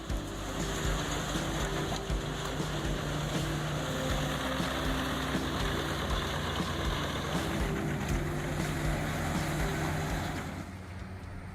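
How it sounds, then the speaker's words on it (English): A wood chipper machine powered by a Caterpillar engine runs hard, giving a loud, steady, heavy mechanical drone with constant low harmonics that holds unbroken and eases off slightly at the very end. "This beast of a machine easily turns wood into valuable scraps"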